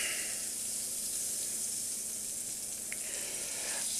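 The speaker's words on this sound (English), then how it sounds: "letting that sizzle up a little bit." Butter sizzles in a frying pan on a stove, a steady close crackling hiss that continues without a break.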